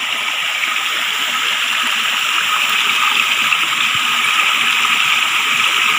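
A forest waterfall deep in the jungle pours with a steady, fairly loud rush of flowing water. The hiss is continuous, with no voices.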